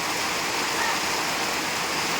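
Heavy rain pours onto a tin roof, a dense, steady hiss with no breaks, loud and close throughout.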